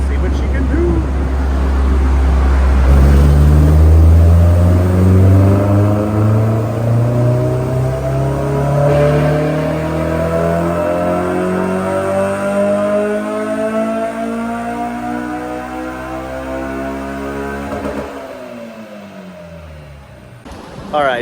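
A Honda S2000 engine revs on a dyno during a full pull, its loud tone climbing steadily through the rev range for about fifteen seconds before cutting off and winding down, with a voice talking early on.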